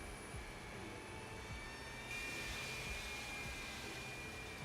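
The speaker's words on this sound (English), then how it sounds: "I'm just gonna do an engine start." A Boeing 737-800 jet engine spooling up in the X-Plane flight simulator, a faint steady turbine hum with thin whining tones that steps up midway and keeps running without speech.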